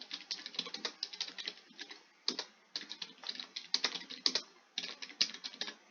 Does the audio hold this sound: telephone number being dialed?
no